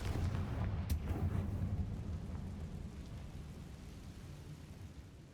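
A Confringo blasting spell explodes in the Hogwarts Legacy video game, giving a deep rumbling boom with a sharp crack early on, then a long fading low roar.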